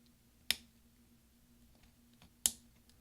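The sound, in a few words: laptop keyboard key clicking into place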